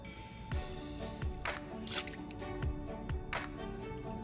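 Water drips and splashes while a small home garden is watered, with several distinct close drops landing at irregular intervals over a faint wet background.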